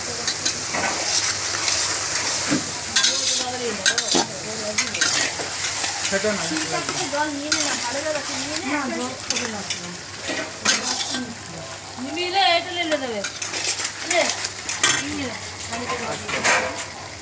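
Chicken pieces stir-fry in a pan with soy sauce for chilli chicken: continuous loud sizzling, with spatula scrapes and pan clatter throughout and faint voices in the background.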